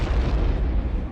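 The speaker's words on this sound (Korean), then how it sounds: "폭발 사고가 일어났는데" A bomb explodes aboard high-speed train 904 running from Naples to Milan, heard as a loud, heavy, sustained low rumble and roar that fills the moment without voices.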